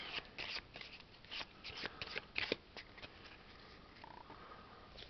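Quiet, rapid riffling of playing cards being shuffled, a few short bursts of crisp flapping, then a soft pause.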